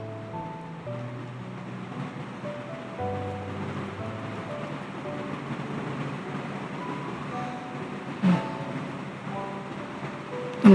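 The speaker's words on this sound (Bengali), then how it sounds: "আমার চালটা ভাজা হয়ে গেছে, এখন আমি গরম পানিটা দিয়ে দিব।" Hot water poured onto fried rice in a pot for pulao gives a soft, continuous hiss and gurgle lasting several seconds, moderately quiet, with a few faint clanks near the end.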